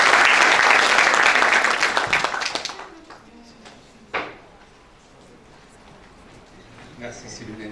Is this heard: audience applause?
yes